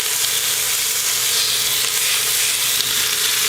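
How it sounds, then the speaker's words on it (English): Beef sears in a hot pan, giving off a loud, continuous, close sizzle that holds steady throughout with no pauses. "so that the meat can lay down on the bottom of the pan while it's searing"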